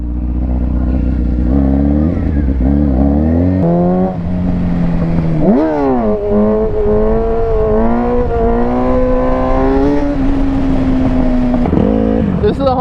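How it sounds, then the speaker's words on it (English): A sport bike motorcycle engine revs hard while being ridden, pitch climbing and dropping through gear changes, loud and close with steady wind and road roar underneath. "we're on a sport bike"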